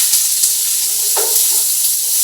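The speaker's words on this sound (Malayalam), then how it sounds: "അരിഞ്ഞു വെച്ചിരുന്ന സവാള അങ്ങോട്ട് ഇടുകയാണ്." Chopped onion hits a hot pan with a sudden sizzle that swells into a steady, close frying hiss for a couple of seconds, with no talk.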